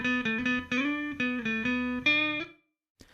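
Guitar played through a Softube amp on its room setting with a small studio reverb: a short run of clear picked notes, each ringing with a brief room tail, then a pause and a faint scrape near the end.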